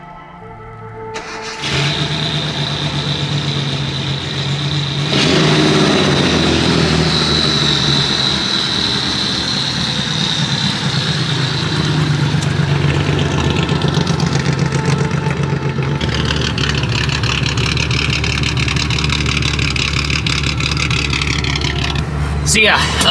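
A 1975 Datsun 280Z street build with an individual throttle body kit, its engine loud and close as it fires up, then idles and revs steadily with a shift in tone partway through, with no talk over it.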